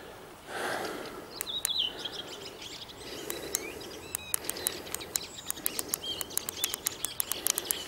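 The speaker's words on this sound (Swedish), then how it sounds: "Jag trodde jag hörde fåglar men det var bara GPSen." Sharp electronic chirps from a GPS device repeat in irregular bursts over faint outdoor ambience on a hike between Åre and Järpen, Sweden, growing more frequent toward the end, sounding much like birds.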